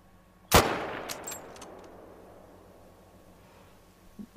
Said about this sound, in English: So go ahead and take a shot at him.